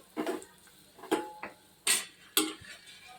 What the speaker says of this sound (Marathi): अर्धा चमचा हळद दोन चमचे लाल तिखट अर्धा चमचा गरम मसाला हे छान परतून घेते